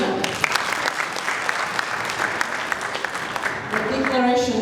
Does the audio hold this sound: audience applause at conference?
yes